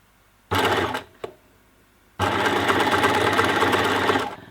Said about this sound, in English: So now I'm just going to repeat that and get going around the harness.